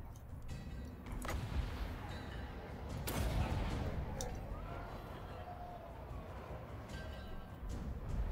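Gunfire in a video game, a burst of distant shots and booms under a wash of game noise, with a voice talking over it.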